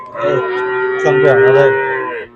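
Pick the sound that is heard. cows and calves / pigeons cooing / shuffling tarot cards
cows and calves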